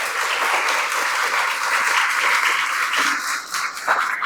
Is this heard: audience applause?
yes